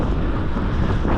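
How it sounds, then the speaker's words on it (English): Steady wind buffets the microphone during a bike ride on a sunny, windy day, a dense, continuous low roar with no voice over it. "It's also quite windy,"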